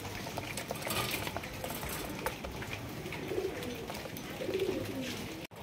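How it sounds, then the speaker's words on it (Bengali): A pair of black pigeons cooing softly at close range, low repeated coos over a continuous background hiss and faint clatter, steady and moderately quiet, with no speech. "এখানে রয়েছে খুবই সুন্দর একজোড়া ব্ল্যাক কালারের গড়া কবুতর"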